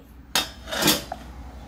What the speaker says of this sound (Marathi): सँडविच असं मस्तपैकी या सँडविचच्या भांड्यामध्ये ठेवणार आहोत